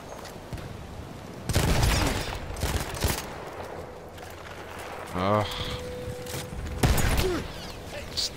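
Scattered gunfire and heavy battle noise in Battlefield 1, in bursts of shots and booms over a busy background, with some mechanical whirring midway; fairly loud and close.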